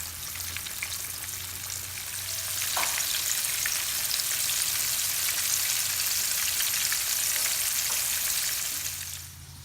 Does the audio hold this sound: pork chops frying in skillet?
yes